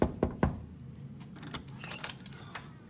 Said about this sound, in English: I got there and I knocked on the door